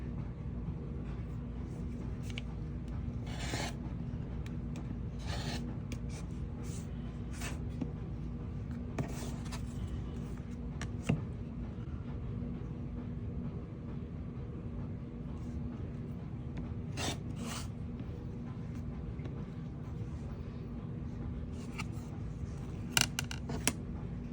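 Fabric strips for a quilt block, white and purple, being cut with scissors: soft, scattered snips and rustles of cloth over a steady low background hum, with no talking.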